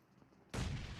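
Grenade blast and gunfire in the mobile battle royale PUBG Mobile during a competitive match: quiet low hum, then a sudden loud burst of explosion and shots that sustains to the end.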